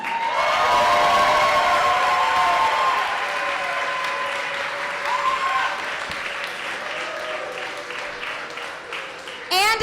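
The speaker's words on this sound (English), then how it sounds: "can we please give a giant round of applause to Move San Antonio?" A large youth forum audience in San Antonio breaks into sustained applause and cheering, loud and dense at first and slowly thinning over several seconds, with a brief clatter at the very end.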